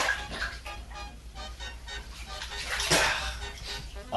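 Bath water splashing and sloshing as someone goes under, a moderate, uneven watery wash with a brief stronger splash partway through, heard alone without talk.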